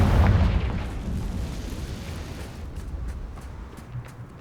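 A Confringo fire spell from the Hogwarts Legacy video game bursts with a deep booming blast at the start, then a rumbling, crackling tail that slowly fades over several seconds.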